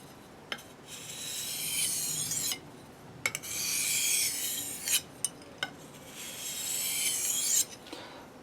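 An ESEE 6 knife blade drawn across a sharpening stone in long rasping strokes, several passes separated by short pauses and small clicks, close and clear with no voices.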